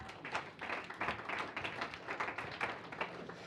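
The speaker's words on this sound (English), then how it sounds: "round of applause right there." A round of applause from an audience at a company all-hands meeting, with steady, moderately quiet clapping sustained throughout.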